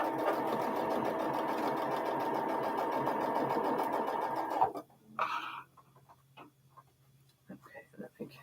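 A sewing machine stitches blue quilt block pieces together with a steady, continuous whir lasting several seconds, then cuts off, followed by quieter scattered handling sounds.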